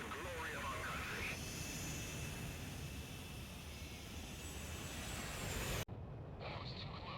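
Jet aircraft in the video game Ace Combat 6, a loud broad engine roar building steadily for takeoff under voices, cutting sharply near the end into quieter ambience.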